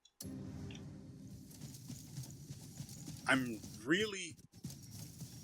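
Hooves clip-clop steadily on hard ground while a horse snorts and whinnies twice in a video game, with a voice talking in the background.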